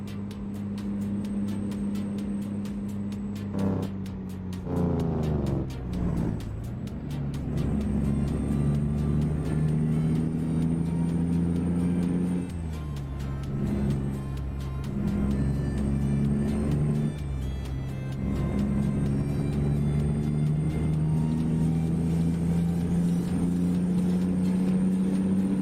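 A noisy six-speed truck engine in Euro Truck Simulator 2 drones loudly and continuously, rising and dropping in pitch through gear changes as the truck drives.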